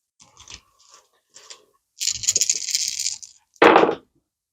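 Six dice rolled together across a tabletop during a Marvel Crisis Protocol game, giving a sustained clattering rattle followed by a short sharp burst of dice tumbling to a stop, close and fairly loud.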